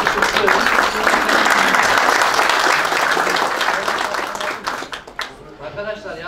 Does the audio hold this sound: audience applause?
yes